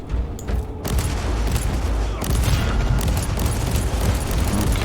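Dense, sustained gunfire and explosions from the Warhammer 40,000: Inquisitor - Martyr video game, loud and continuous rapid shots with booming blasts layered throughout, with almost no pause.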